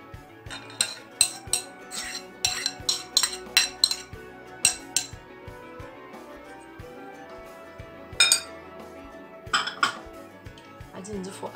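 Kitchen dishes and a bowl clinking and clattering as another bowl is fetched, sharp bright knocks in irregular bursts, some clustered, with quiet gaps between and faint background noise.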